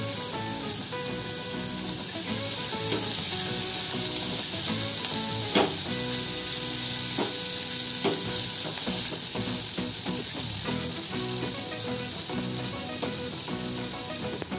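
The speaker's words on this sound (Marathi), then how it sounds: "कांदा थोडा परतला की लाल मिरच्या घालू।" Onion sautéing in a pan for vermicelli upma crackles in a loud, steady sizzle with occasional sharp pops and scraping clicks, close up and continuous, with no talking.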